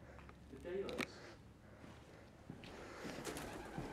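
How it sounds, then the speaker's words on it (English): Pigeon inside an abandoned pub, a few soft cooing and fluttering sounds close by in a quiet, hollow room, with people talking excitedly around it. "Whoa, attack of the pigeon"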